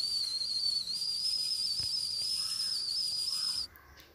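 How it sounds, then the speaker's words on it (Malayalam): A steady, shrill high-pitched whistle from a milk boiler sounds continuously for several seconds, then cuts off abruptly near the end. "ഈ ഒരു പാല് തിളച്ച് കഴിഞ്ഞാൽ ഒരു വിസിൽ സൗണ്ട് കേൾക്കാം"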